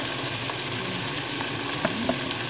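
Okra and beans land in a hot pan and sizzle, a steady close frying hiss with a few small pops and stirring scrapes, no voices.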